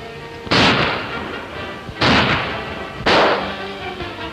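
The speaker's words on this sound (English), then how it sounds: "what were those shots in the garden?" Three sharp gunshots ring out in a garden in a 1933 film, evenly spaced about a second or so apart, each a loud burst that fades with a short tail.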